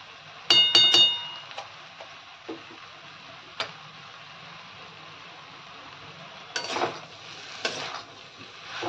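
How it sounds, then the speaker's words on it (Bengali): Ground spices, dried red chilli and turmeric, fry in a pan with a low steady sizzle, while a utensil stirs them and gives a few sharp clinks and taps against the metal, loudest near the start. "এবার মশলাগুলোকে খুব ভালো করে আমি কষাতে থাকবো।"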